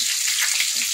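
A large katla fish head frying in hot oil in a pan, a steady close crackling sizzle with no talk.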